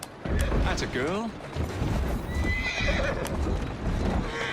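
A horse in the video game Assassin's Creed Syndicate whinnies loudly with a wavering neigh, followed by hoof clops and snorting over a busy, rumbling background.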